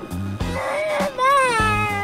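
A young child cries in wavering, high-pitched wails, broken by a couple of brief pauses, close by and fairly loud.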